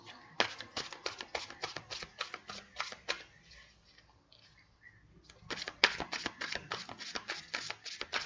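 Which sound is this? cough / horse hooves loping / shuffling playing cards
shuffling playing cards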